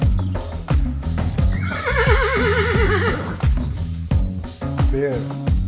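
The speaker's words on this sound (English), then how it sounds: "Horse." A horse neighs loudly and close, a long wavering whinny over a rhythmic backing of repeated beats that sounds like music or clip-clops.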